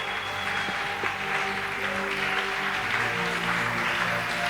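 Church congregation at a Pentecostal service applauding and cheering together, a steady, sustained wash of clapping and voices with music tones running underneath.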